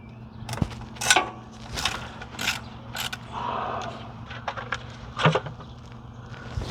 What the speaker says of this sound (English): I need to break this bolt right here loose.